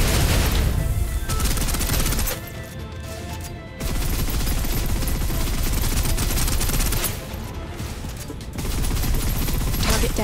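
Sustained suppressive gunfire in the Snowbreak shooter game, loud continuous automatic bursts that pause twice briefly before resuming at full intensity.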